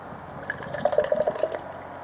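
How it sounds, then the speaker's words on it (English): Foster's beer pours from a big can into a glass with close, gurgling, splashing bursts that build and then taper off. "It seems like every time I pour it, it spills"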